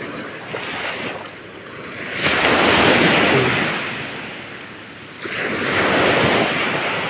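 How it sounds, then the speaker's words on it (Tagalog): Big ocean waves breaking at sea, two long surging roars of surf swelling and fading, with wind buffeting the microphone. "Yan, laki ng alon."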